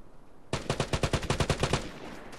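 Rapid automatic gunfire in a video game, a burst of about a dozen sharp shots in quick even rhythm, loud and close, then a brief fading tail.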